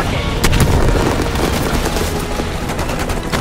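Rapid gunfire rattles continuously in a Call of Duty Black Ops 6 campaign battle, dense bursts of shots layered over a heavy rumbling combat roar, loud and close.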